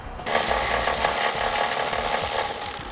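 A power tool runs steadily on a 13mm exhaust hanger bolt beneath a 2017 Dodge Grand Caravan during a trailer hitch install, a continuous close whirring rattle lasting nearly three seconds after a brief pause, with no talking.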